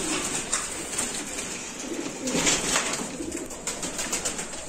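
Pigeons cooing steadily in a loft, soft repeated throaty coos close by with a faint background hiss and no talking.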